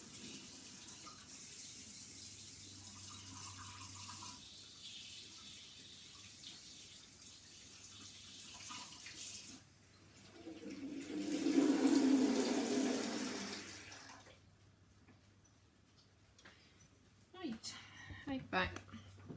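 Tap water runs into a sink at moderate loudness, swelling into a steady gush for a few seconds before cutting off.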